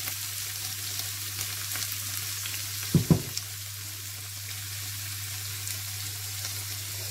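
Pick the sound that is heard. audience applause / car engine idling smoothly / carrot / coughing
carrot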